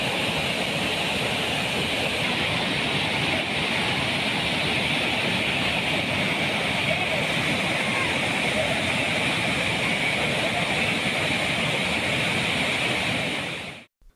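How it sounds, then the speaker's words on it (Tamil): Bhiman Falls in the Javvadhu hills of Tiruvannamalai district roars in flood: a loud, dense, unbroken rush of crashing water that runs steadily, then cuts off abruptly. "திருவண்ணாமலை மாவட்டம் ஜவ்வாது மலையில் உள்ள பீமன் அருவியில் வெள்ளப்பெருக்கு ஏற்பட்டது"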